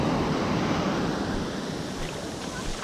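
Surf at Old Orchard Beach, Maine rolls in as a broad, continuous wash of waves, loud and steady with wind buffeting the microphone.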